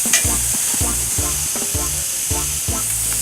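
Skirt steak and shrimp sauté in a pan, a loud, close sizzle with a regular rhythm of about six stirring or tossing strokes, each scrape followed by a brief hiss, with no talking.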